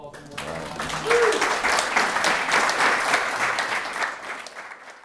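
Audience applause for two podcast guests, Angela and Mayan Corioso, swelling quickly into steady, dense clapping that holds loud for several seconds before tapering near the end.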